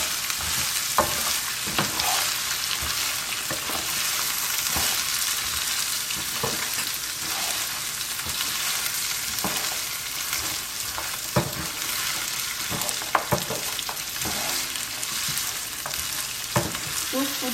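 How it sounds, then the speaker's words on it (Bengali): Rice and vegetables fry in a pan for fried rice, with a loud, continuous sizzle close by and repeated sharp scrapes and clinks as the spatula stirs them. "এখন আমি সবজিগুলো দিয়ে দিচ্ছি ভাজতে।"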